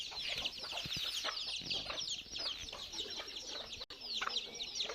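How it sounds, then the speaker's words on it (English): A flock of chickens and a rooster clucks and chatters continuously at close range on a poultry farm, with a brief dropout near the end. "this is the father, and I'll show you the chicks of this cock"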